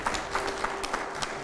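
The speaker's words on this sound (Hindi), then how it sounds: "पहले जोरदार तालियां हो जाए" Studio audience clapping during a Hindi televised discussion on CBSE syllabus changes, brief and rhythmic with evenly spaced bursts, moderately loud and dense.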